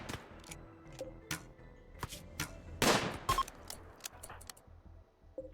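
RimWorld colonists fire guns in a string of sharp, distant-sounding pops at irregular intervals, with a denser, louder burst of shots near the middle.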